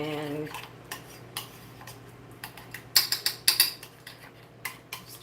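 A small spoon stirs ingredients in a container while making taco-night food, with irregular light metallic clinks and taps, some louder bursts in the middle, close by and with no voices.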